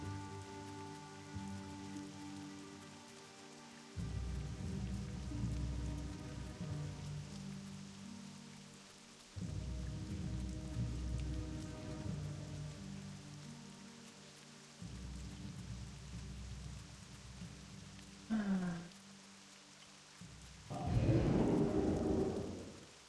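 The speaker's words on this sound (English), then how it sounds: "Why, oh why is it raining?" Rain pattering steadily in World of Warcraft Classic, joined by repeated deep thunder rumbles arriving every few seconds, with a sharper thunderclap near the end; no voices.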